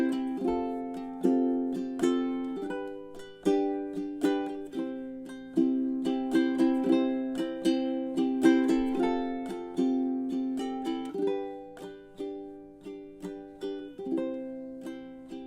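A ukulele plays a gentle chord progression with thumb strums, the tempo stretching and easing and the volume swelling and softening, each strum ringing close and clear with no voices.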